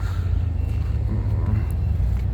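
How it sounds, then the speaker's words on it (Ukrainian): Cars pass along a snowy city street near a crossroads behind a building, a steady low rumble of traffic that is close and continuous throughout. "От машини їздять, і там, а там за будинком перехрестя."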